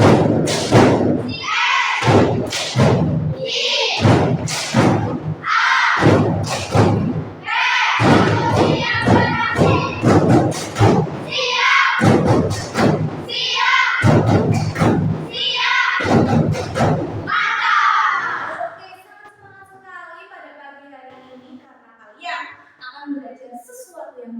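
Classroom of primary school children performing a rhythmic group clapping chant, loud sharp claps in repeated bursts over about 17 seconds, then quieter murmuring and scattered sounds.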